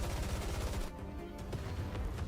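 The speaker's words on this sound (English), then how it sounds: "She thrusts her arm forward and a barrage of gunfire erupts" A rapid barrage of gunfire from Ark Ranger Black's transforming arm in the video game Goddess of Victory NIKKE, dense and steady, with sharp repeated bursts and no talking.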